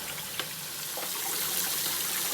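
Hot water runs steadily from a kitchen tap while pumpkin seeds are rinsed, a close, continuous hiss with faint splashing, no voices.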